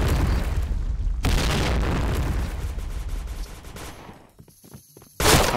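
Grenade blast and sustained gunfire in Insurgency: Sandstorm, a loud continuous wash of shots and booming that thins out toward the end before another sharp burst cuts in; no voices.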